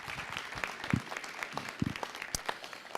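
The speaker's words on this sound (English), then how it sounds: "Give him a nice round of applause." Faint, scattered applause at a city council meeting as an employee is called up, a thin patter of separate claps with a few sharp louder ones, heard from a distance.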